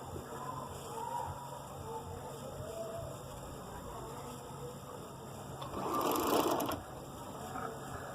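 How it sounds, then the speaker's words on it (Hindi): A sewing machine stitches around the round armhole of a girl's shirt to attach the sleeve, a steady, moderately quiet mechanical whir running throughout, rising into a brief louder burst near the end. "अब मैं इस पर गोल आर्म होल पे सिलाई लगा लूँगी गोलाई में।"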